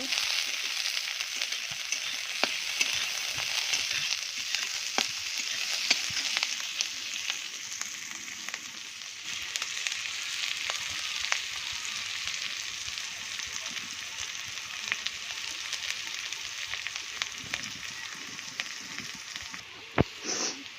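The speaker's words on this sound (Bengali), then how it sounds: "এবার দিয়ে দিচ্ছি পেঁয়াজ কুচি, ভেজে নেব।" Chopped onion frying in hot oil, a continuous soft sizzle with scattered small crackles and pops, steady throughout and fairly quiet.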